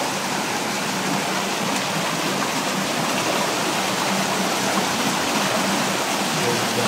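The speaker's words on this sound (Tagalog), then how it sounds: "Umaagos yung tubig guys" Stream water flows and rushes continuously in a steady, broadband wash that stays loud and even throughout.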